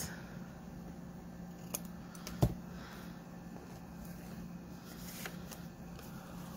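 Scissors cutting paper tags, a few sharp crisp snips spaced apart, the clearest one near the middle, quiet and close over a faint steady room hum.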